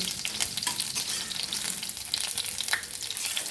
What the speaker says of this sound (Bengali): ফুলকপিগুলো আরেকটু নাড়লেই হয়ে যাবে